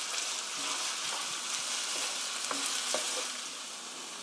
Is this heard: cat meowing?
no